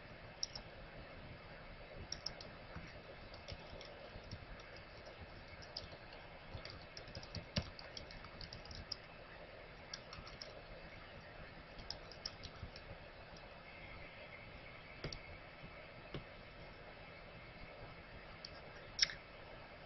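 Faint, irregular keystrokes on a computer keyboard as a full course title is typed, quiet scattered clicks running throughout with a sharper tap near the end, no talking over them.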